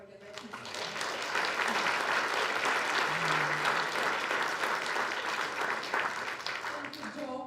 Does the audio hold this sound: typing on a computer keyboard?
no